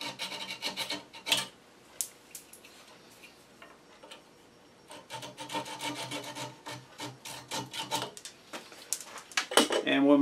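Scratchy rubbing strokes of hand sanding on wood, coming in short bursts with pauses, plus a few light taps and clicks.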